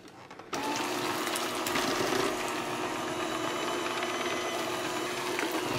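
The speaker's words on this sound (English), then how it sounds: "Then I'm going to go ahead and blend this on low together." Electric mixer on low speed blending gingerbread cookie dough with water, a steady buzzing motor whir that starts abruptly and runs continuously at moderate volume.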